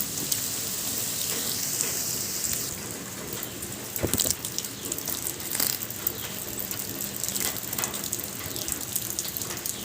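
Two stems of homegrown curry leaves hit hot oil in a pan, setting off a loud, steady crackling sizzle with sharp pops and spatters that runs on throughout, swelling briefly partway through.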